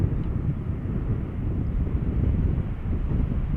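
Steady high-pitched engine roar from a fifteen-year-old airliner on flight 8489 near Schiphol Airport, resembling an A330, with a continuous loud drone and a hint of wind noise throughout.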